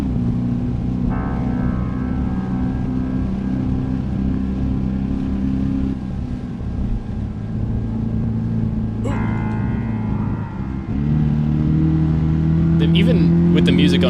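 A car driving on the road with a steady engine drone and road rumble throughout, the engine pitch shifting partway through amid some background sounds.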